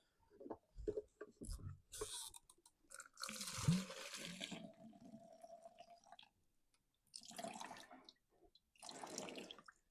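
Fuel drains from a Stihl chainsaw tank into a container as faint intermittent trickling and dribbling, coming in short separate pours with quiet gaps between them.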